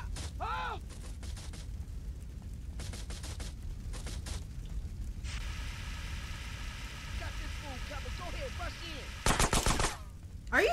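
Bursts of automatic and single-shot gunfire in Grand Theft Auto: San Andreas, during a mission in a burning building. Loud rapid volleys come in clusters with gaps between them, with a talking voice and background engine noise.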